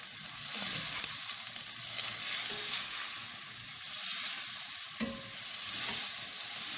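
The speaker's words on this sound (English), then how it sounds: "fry the beef in small batches, like that" Paprika-coated beef fries in a pan in small batches, giving a constant hissing sizzle with occasional soft stirring scrapes and faint pops, close and steady.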